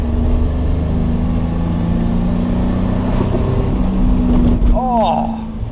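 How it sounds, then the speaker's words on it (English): A Ford 3-litre Essex V6 in a Reliant Scimitar GTE hums steadily throughout with a low rumble, nearly constant in pitch, close and fairly loud. "Ford's lovely 3-litre Essex V6"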